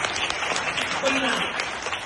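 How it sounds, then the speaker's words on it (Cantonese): Audience applause at a children's musical, steady broadband clapping that fills the room for about two seconds, with some voices mixed in. "若然俾啲掌聲"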